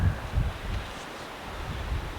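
Cold, gusty wind near Tadoussac, Quebec, buffeting the microphone with low rumbling rushes and a rustling outdoor wash, steady and fairly loud with no voices.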